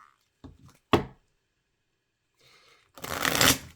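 Playing cards are handled with a few sharp slaps and taps, then a brief riffling shuffle builds into a loud, quick burst.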